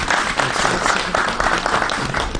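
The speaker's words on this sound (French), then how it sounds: "Si on peut applaudir aussi pour" At an awards ceremony for distinctions and excellence, the audience breaks into close, loud applause, many hands clapping in a dense continuous burst with slight swells.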